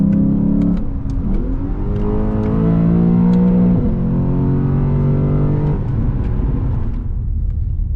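A naturally aspirated Lexus GS F sedan drives through turns, its engine loud and close as the revs climb, drop and climb again in smooth sweeps of gear changes, with no talking.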